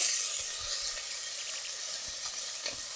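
Sausage sizzling and frying steadily in a pot with no oil added, a constant bright crackling hiss with occasional soft stirring knocks, close and with no voices.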